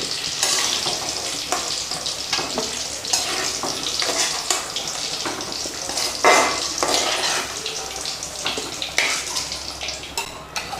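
Potatoes frying lightly in hot oil for a vegetarian jackfruit curry, giving a steady close sizzle with occasional stirring and clinks throughout, no talking.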